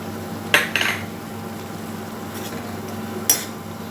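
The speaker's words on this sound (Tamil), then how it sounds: "இந்த ஸ்டேஜில் பருப்பு எடுத்துக்கலாம் இதை வந்து இதோட மிக்ஸ் பண்ணிக்கோங்க" Boiled lentils being mixed into cooked snake gourd in a bowl for a Tamil kootu, with a few sharp clinks of a utensil against the dish and a soft faint scraping in between, no talking.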